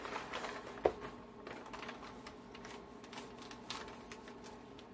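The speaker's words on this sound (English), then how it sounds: "Let's just straighten out this paper real quick." Paper from a diamond painting kit is smoothed and straightened by hand, a quiet run of close crinkles and rustles with one sharper crackle early on, with no talk.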